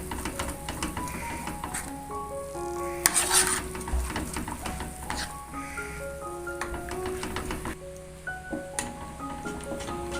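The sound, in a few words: stirring pudding mixture in a pan until brown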